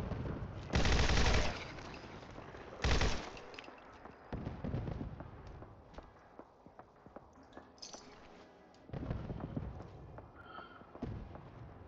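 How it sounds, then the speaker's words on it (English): Bursts of explosive-round gunfire in Fallout 4: two loud heavy blasts early, then scattered sharp pops and cracks with further explosive bursts later, mid-distance, no talking. "I'm using explosive rounds."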